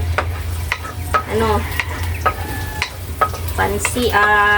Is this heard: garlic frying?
yes